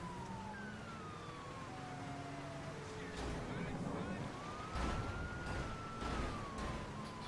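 Police car sirens in GTA 5 wail in sweeping rising and falling tones, several overlapping, over engine and traffic noise with a few heavy thumps, fairly close and loud.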